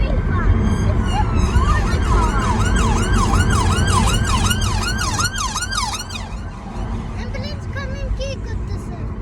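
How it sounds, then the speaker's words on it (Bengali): An ambulance siren wails loudly in a rising and falling sweep, coming up behind a moving car over steady road and engine noise, then tapers off near the end. "অ্যাম্বুলেন্স আসতেছে আমাদের পিছনে।"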